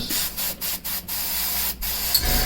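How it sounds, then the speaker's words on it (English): An airbrush sprays paint onto a miniature in several short, close hissing bursts separated by brief pauses, fairly loud and with no talking. "I think that's our airbrushing for the night"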